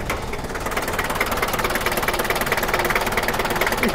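A four-cylinder, water-cooled 2756 cc diesel engine of a Hiline ambulance runs steadily, a rough rhythmic knocking idle close by with no talk.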